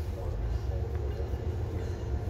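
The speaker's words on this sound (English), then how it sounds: "hi Alex, we had a train parking westbound" A train pulling in to park westbound on track 2 at Fullerton Station rumbles steadily at low pitch, a continuous mechanical drone with faint rail noise, fairly close and unbroken throughout.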